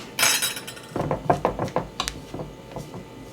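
Spatula scraping and tapping around a mixing bowl of vegan chocolate frosting, a run of short clinks and scrapes that fade after the first second, close by with no talking.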